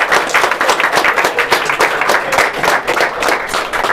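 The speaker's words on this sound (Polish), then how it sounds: "wielkie brawa dla wszystkich" Brisk applause from a small crowd at a tabletop gaming tournament, quick overlapping claps at a steady, close level for a few seconds.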